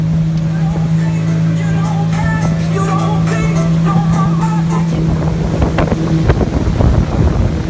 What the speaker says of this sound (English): It is breezy.